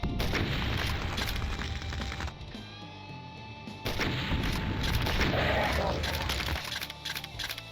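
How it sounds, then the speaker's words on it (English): M79 grenade launcher explosions in the video game Doom 3 on the UAC Mansion map, heavy booming blasts that fill most of the span, broken by a short quieter gap, then a renewed burst of loud impacts. "And with 3 M79 grenades, we kill him."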